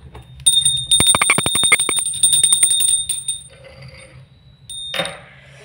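A small brass puja hand bell rings close by in a rapid, bright series of strikes with a sustained metallic tone, trailing off, then one more short ring near the end.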